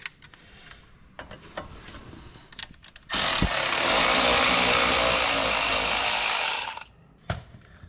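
Power tool removing 7 mm bolts on a 2016 Chevy Silverado runs in one loud, steady burst of about four seconds, bracketed by clanks and rattles of work on the truck.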